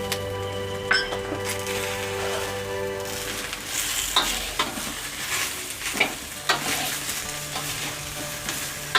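Ginger paste and turmeric frying in very little oil in a pan, with a steady sizzle and repeated scraping and clinking strokes as the mixture is stirred, close and fairly loud, no voices.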